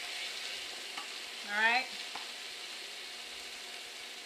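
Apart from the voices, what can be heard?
chicken frying and popping in a pan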